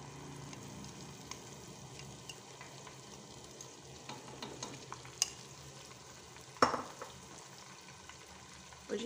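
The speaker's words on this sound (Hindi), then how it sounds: "प्याज अब गोल्डन होना शुरू हो गई है, तो अभी मैं इसमें दही ऐड कर देती हूँ जिसमें मैंने सारे मसाले डाल दिए थे।" Spiced yogurt added to golden frying onions for a Kashmiri kofta curry, giving a quiet, steady sizzle with soft stirring and scraping, plus a couple of sharper clinks of the spoon against the pan.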